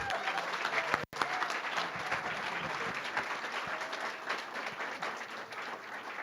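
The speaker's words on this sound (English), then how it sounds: "So if we can give them a big round of applause." Audience at a Chino city council meeting gives a sustained round of applause, dense steady clapping filling the room for several seconds with a brief cut near the start.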